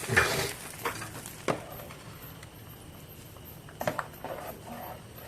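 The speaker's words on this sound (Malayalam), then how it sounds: "പായസത്തിലേക്ക് അണ്ടിപ്പരിപ്പ് മുന്തിരിങ്ങയും ചേർക്കാം കുറച്ച് ഇളക്കി കൊടുക്കാം" Payasam with cashews and raisins stirred in a pot: soft gentle bubbling under a few scattered spoon scrapes and knocks against the metal, quiet and close, with no speech.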